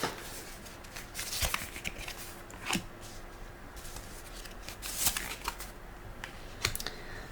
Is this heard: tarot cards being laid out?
yes